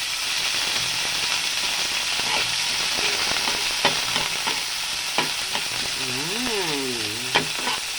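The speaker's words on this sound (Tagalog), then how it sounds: "Magigisa muna tayo ng white onion." White onion sautéing in a pan as the first step of a mackerel and sotanghon soup, with a steady close sizzle and intermittent stirring clicks and scrapes throughout, with no talk.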